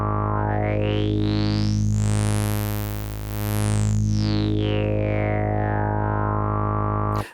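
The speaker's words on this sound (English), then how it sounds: "So you can select any of the waveforms that you have from your oscillator and modulate the filter cutoff." Behringer MS-101 synthesizer with its oscillator modulating the filter cutoff, a loud sustained harmonic tone whose filter sweeps up to a bright peak and back down, gritty and buzzing throughout, ending abruptly.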